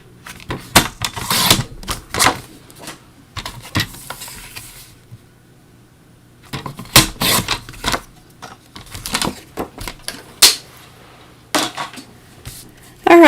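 Paper being cut down to size for a handmade candy corn Halloween card, heard as repeated short crisp cutting and trimming bursts in two clusters with a quiet gap between, close and moderately loud, no talking.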